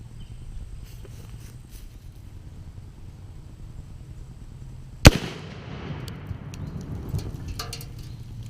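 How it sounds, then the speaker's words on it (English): A sharp blast from an explosion test on an Artic Air chiller at a proving ground, one sudden loud crack midway through, followed by crackling debris over a steady background rumble. "It's a explosion test to mimic a fire or something in a facility"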